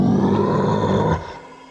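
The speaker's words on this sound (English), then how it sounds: "At once, they heard a deafening roar." A deafening dragon roar sound effect for a told story: a loud, low, growling roar lasting just over a second, then trailing off into a quieter rumble.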